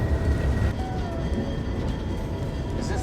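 A train runs steadily on rails with a continuous low rumble and faint tonal whine rising slightly as it gathers speed, heard from on board without talk.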